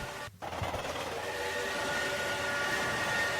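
Moving steam locomotive train, a steady dense rumble with a faint tonal whistle-like hum running throughout, continuous and moderately distant with no talk.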